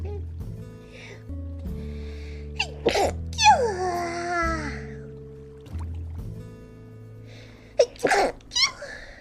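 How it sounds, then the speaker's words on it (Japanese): A sharp, loud sneeze bursts out over soft background music, followed a few seconds later by a cluster of short vocal sounds. "すごいくしゃみ出るやん。"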